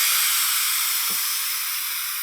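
Air hissing out of the plenum of an FX Crown MKII airgun through its valve, a steady broad hiss held throughout, close and fairly loud, with a faint low thump partway through.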